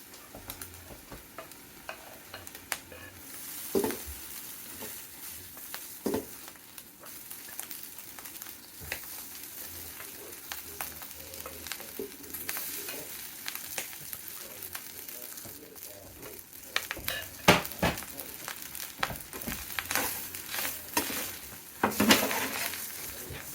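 Chicken, shrimp and rice fry on a hibachi griddle with a steady, close sizzle, broken by scraping and clinking of spatulas and several louder metallic taps, growing busier toward the end.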